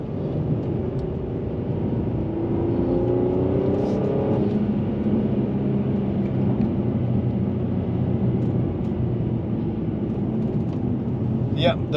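A Mercedes-Benz E450 in Sport Plus mode drives along a curvy road, with a steady engine drone and road rumble heard from inside the cabin and a brief rising rev partway through.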